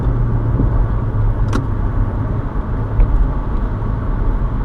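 A Nissan GT-R idles and rumbles at close range with a steady low engine drone, a sharp click partway through and no talking.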